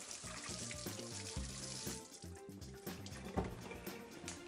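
Running tap water splashing over hands being rinsed in a kitchen sink while cooking croquettes, a close, fluctuating gush with shifting tones as the hands move under the stream.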